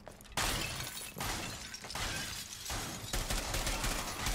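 An explosion sound effect edited into Rainbow Six Siege gameplay gives a loud, dense roar of blasts and shattering debris that keeps going, with sharp new bursts and no speech.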